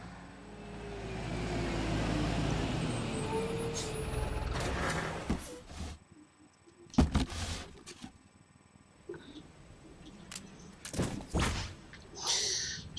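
A vehicle drives in Metal Gear Solid V, its steady engine rumble holding for several seconds before cutting off, followed by scattered thumps and clunks, no talking.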